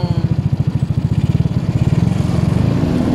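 A motor scooter engine with a worn pulley and stiff center spring revs hard toward high RPM after 35,000 km, its close, buzzing pulse quickening and rising steadily.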